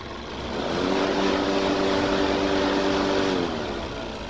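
A Viking lawn mower's small engine starts and runs steadily for a few seconds, a close, even droning hum that swells in and then fades slightly.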